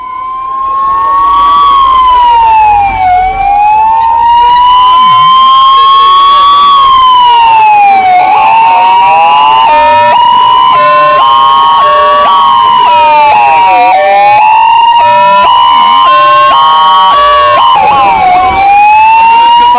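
Ambulance and fire brigade sirens respond to a night club fire in Goa: loud, overlapping wailing tones rise and fall continuously, with faster yelping bursts mixed in, close and dominant throughout.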